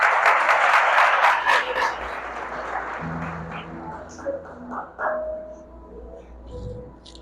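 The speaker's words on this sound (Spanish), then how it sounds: "Dímele otro aplauso, por favor." Applause from a church congregation at a worship service, broad and sustained at first, then tapering into scattered claps and murmuring voices.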